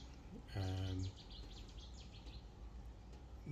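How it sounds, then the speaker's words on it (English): A small Cetti's warbler sings a quick burst of bright, chirping notes, fairly faint and set back at a distance, with a brief low tonal hum overlapping the start of the phrase. "that was a little warbler. I believe that's a Sette's warbler that we could hear there."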